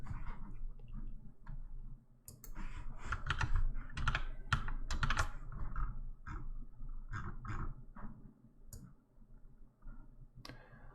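Typing on a split computer keyboard, with dense bursts of clicking keystrokes coming in irregular runs and short pauses, close and clear with no voice over it.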